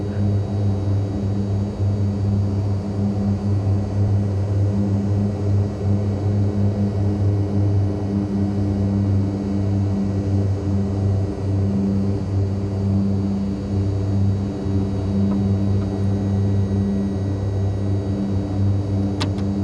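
A propeller aircraft engine runs at full power in a flight simulator, a steady loud drone with strong low harmonic bands holding constant throughout, no talk over it.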